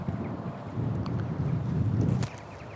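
Gusty wind buffeting the microphone at a river harbour in winter, a low rumbling rush that swells and eases over a few seconds with no talk.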